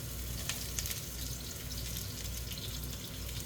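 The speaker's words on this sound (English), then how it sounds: "in a hot pan, we'll saute our onions, garlic" Onions and garlic sautéing in a hot pan for a stir-fried egg noodle dish with wild mushrooms, a faint, even sizzle with a few light clicks and no talk.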